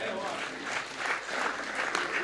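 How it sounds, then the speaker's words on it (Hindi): The crowd at a Hindi poetry recital breaks into loud applause for a visiting poet, a dense, continuous clatter of many hands lasting a couple of seconds. "जोरदार तालियां हो जाए"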